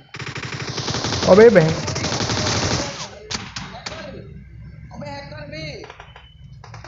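A loud burst of rapid automatic gunfire in the mobile battle game PUBG Mobile fills the opening seconds, then fades as players talk and shout over the game sounds.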